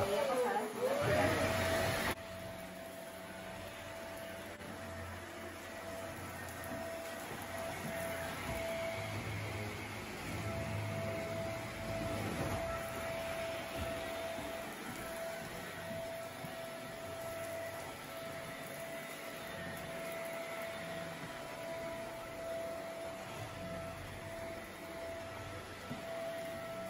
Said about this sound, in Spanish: finalmente voy a pasar esta aspiradora, aspirar un poquito